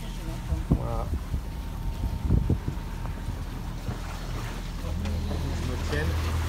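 A boat runs at sea on a crossing from Ibiza to Burriana, its low steady engine drone mixed with wind and water noise, while people talk nearby over the hum.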